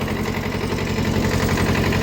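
A Kubota B5001 compact tractor engine runs steadily nearby on a farm, a continuous loud low chugging idle with dense rumbling vibration and no pauses.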